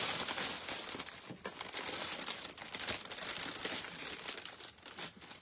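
Moss pulled apart by hand and spread into a box, giving soft, continuous crinkling and tearing rustles, close and fairly quiet.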